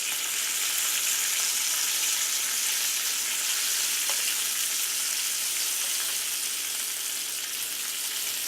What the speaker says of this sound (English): Bacon don't take long to cook.